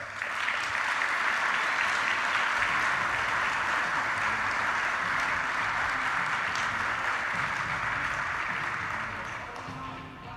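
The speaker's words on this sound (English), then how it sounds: "How about a round of applause?" Audience applause for an award recipient at a panel event, sustained and fairly loud steady clapping for about ten seconds, tapering slightly at the end.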